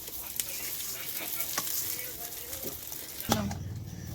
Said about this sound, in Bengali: এখানে আমি পোলাও চালটা ভেজে নিয়েছি ভালো করে